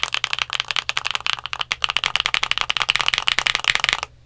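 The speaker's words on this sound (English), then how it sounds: "it sounds better than what it sounded like stock" A modded Eyooso K620 budget mechanical keyboard is typed on quickly, producing a dense, steady patter of close, crisp keystroke clacks for about four seconds, with no talk.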